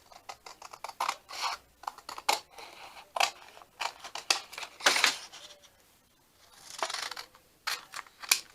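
Scissors snip out a paper zipper tag for a junk journal, a series of short, close, crisp cuts in uneven bursts with brief pauses between them.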